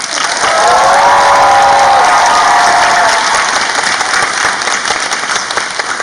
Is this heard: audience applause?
yes